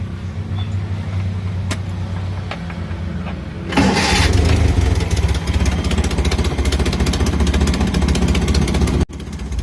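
A multicab with a newly replaced valve and a holed exhaust cranks, catches and roars to life partway through, then runs on in a loud, rough, steady idle close by.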